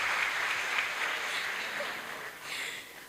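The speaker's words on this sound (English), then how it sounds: "I think he deserves another round of applause." An audience at a public discussion on a parliamentary bill gives a speaker a round of applause, a sustained, even wash of many hands clapping, fairly loud and close, swelling slightly again near the end.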